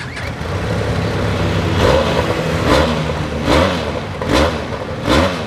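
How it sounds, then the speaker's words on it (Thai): A 2018 Benelli TRK502 motorcycle with its stock exhaust idles close by, then is revved in several smooth, even blips that rise and fall at a steady rhythm, with no talk. "เดี๋ยวเรามาฟังเสียงท่อกัน"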